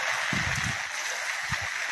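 Rainwater rushes through a flooded roadside drain during heavy rain, a steady hissing stream with a few low gurgling surges, fairly faint.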